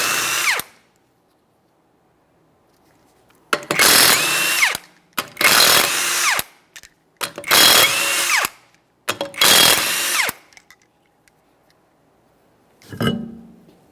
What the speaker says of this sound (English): you're going to remove all 5 of your 21mm lug nuts and we can get the wheel off of here